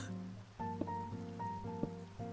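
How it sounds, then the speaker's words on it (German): Steady rain falls in the video game Minecraft, a soft continuous hiss sitting beneath gentle tonal game music, with no voices. "Es regnet mal wieder."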